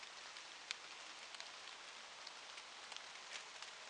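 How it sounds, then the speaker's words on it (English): Light rain falls steadily through a 1996 plantation woodland, a soft continuous patter with occasional sharper drops landing close by, and no voices. "It's raining a bit, but you know it's drier in the woods."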